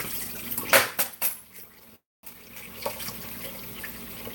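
Running tap water pours over hard-boiled eggs being peeled in a kitchen sink, a steady wash with brief splashy bursts and a short dropout midway, close and fairly quiet with no talking.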